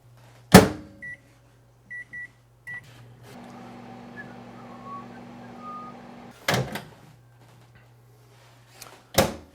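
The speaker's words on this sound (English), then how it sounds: "we're going to put it in the microwave for about 44 seconds or until it's just warm" A microwave oven warming a small amount of apple cider: a door shuts, keypad beeps, then a steady hum runs for about three seconds before an end beep and the door opening and closing with sharp clunks.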